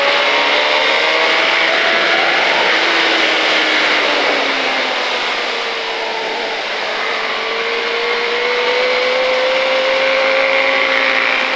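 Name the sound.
Superduke motorcycle accelerating hard on track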